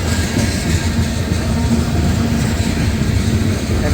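A CSX freight train rolls past in the rain, a loud, steady rumble of wheels and cars close to the listener with a faint rhythmic clatter, continuous from start to finish and with no talking.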